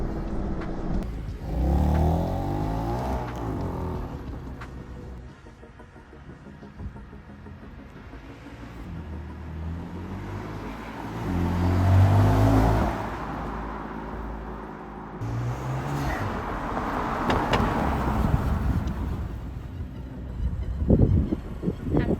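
A rebuilt, previously wrecked BMW M4 drives through a residential neighborhood. Its engine surges and eases in several waves of acceleration over steady road and wind rumble, heard from inside the car without voices.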